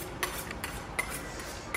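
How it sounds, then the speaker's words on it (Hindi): A hotel chef working with knives in a kitchen, a few sharp metallic clicks and taps spaced irregularly over a soft background hum. "हाँ ये जो छुरी वगैरह चला रहे हैं ना, एक सही माहौल बन गया।"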